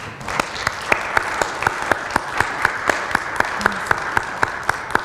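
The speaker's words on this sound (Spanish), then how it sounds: "Un aplauso para ellos." Applause from a church congregation, a dense wash of many hands clapping at once, with a few sharper claps standing out in a steady rhythm at moderate distance.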